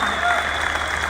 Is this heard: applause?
yes